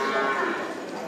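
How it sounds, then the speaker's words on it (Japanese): A single cow lets out a drawn-out moo, nearby and fairly clear, in India. "牛多いな。"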